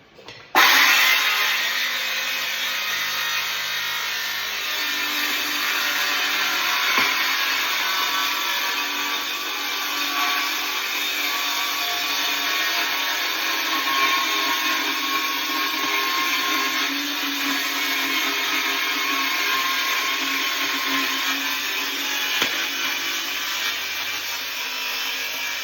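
A power saw cuts a sink opening through a wooden worktop, a loud, continuous high-pitched whining rasp that starts suddenly and holds steady close by for the whole stretch, with faint knocks as the blade works and no talk.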